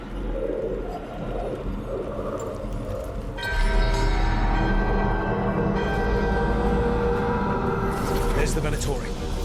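Bell ringing during a ritual in the video game Dragon Age: The Veilguard, a resonant bell tone that swells in midway and lingers over ambient game sound, with a voice speaking throughout.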